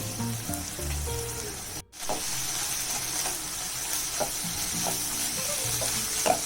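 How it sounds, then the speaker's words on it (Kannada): Minced mutton keema sizzles and fries steadily in a pan on medium flame, a continuous crackling hiss with occasional stirring scrapes and one brief dropout partway through. "ಕೈಮಾ ಮೀಡಿಯಂ ಫ್ಲೇಮಲ್ಲಿ ರೋಸ್ಟ್ ಮಾಡ್ಕೋಬೇಕು"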